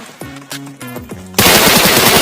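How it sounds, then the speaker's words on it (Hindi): Gunfire in the PUBG Mobile video game, with a few loud separate shots followed by a sustained, harsh burst of rapid automatic fire, loud and close, no talking. "यहाँ सामने देखो बंदे हैं, तो मैं उनको बॉट फायर करके अपनी तरफ बुला रहा हूँ।"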